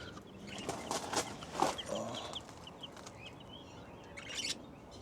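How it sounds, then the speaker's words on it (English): Mystic Maran chickens, fully black birds bought at a farm store, give soft scattered clucks and chirps against a faint noisy background, the calls irregular and fairly quiet. "Maran chicken at the farm store. I think it's Maran, Mystic Maran."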